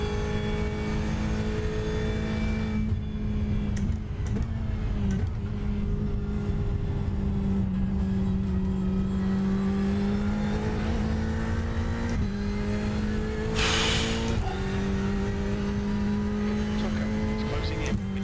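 A Ferrari 488 GTE race car engine in the iRacing sim at Sebring holds a steady, sustained drone with gradual pitch shifts through the gears, and a brief hiss midway.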